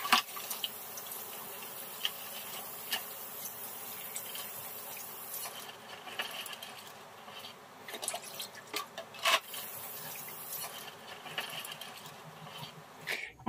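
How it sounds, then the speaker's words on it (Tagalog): Four blue crabs are rinsed under running water in a kitchen sink, a faint steady splash and trickle with occasional knocks of shell against the basin, no voices. "Hugas-hugas lang at kailangan hugasan lang natin itong mabuti."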